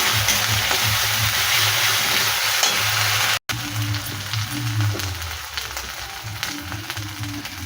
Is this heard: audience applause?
no